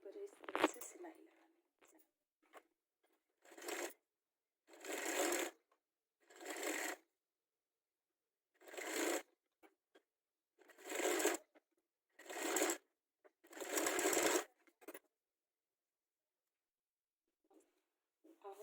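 Sewing machine stitching along the neckline of a zip suit, running in short repeated bursts separated by pauses, close and clear.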